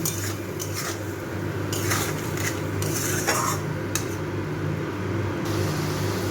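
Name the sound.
stirring and frying spice paste in a pan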